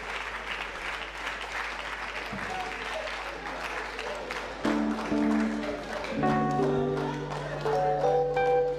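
A church congregation applauds and cheers during a testimony service, steady clapping throughout with voices and sung or sustained tones rising over it in the second half.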